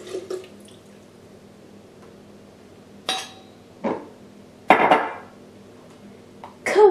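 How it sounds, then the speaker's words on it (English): Egg yolks and white rum go into a blender jar, heard as a few separate soft plops and clinks with quiet gaps between them, sharper near the end. "Add 4 egg yolks and 1½ cups of white rum"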